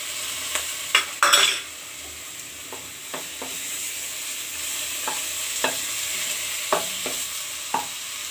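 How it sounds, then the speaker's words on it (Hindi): Ground spice masala fries in a pan for an elephant foot yam curry, a moderate hiss punctuated by repeated sharp scrapes and clacks of a spatula stirring, no one talking. "मसाला अहाँ के पूरा फ्राई भ रहा है"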